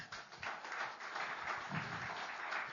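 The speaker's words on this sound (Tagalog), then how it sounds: "Pumalakpak." Faint applause from a church congregation at a Filipino worship service, a soft, even patter of many hands clapping, heard from a distance with no voice over it.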